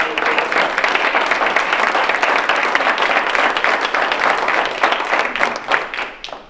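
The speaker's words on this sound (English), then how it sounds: "please stand up so we can give you a round of applause" Sustained applause from a gathered group honoring the graduating class of 2020 at an alumni gathering, steady dense clapping that tapers off near the end with a few voices mixed in.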